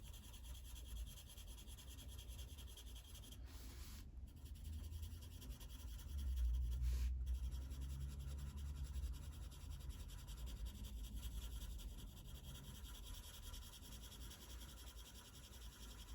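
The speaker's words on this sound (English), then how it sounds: "They sound really scratchy, these pencils on this paper." Arteza colouring pencils scratch steadily across the paper of a colouring book, a continuous soft rasping stroke that swells slightly midway, close up and quiet with faint background hum.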